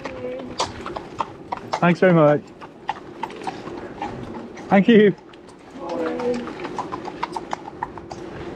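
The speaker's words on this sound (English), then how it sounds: "We've got horses ahead. And oh, more horses ahead." Horses' hooves clip-clop on a road near Ascot in a steady, close rhythm, heard from a passing bicycle. A person briefly calls out thanks over the hoofbeats.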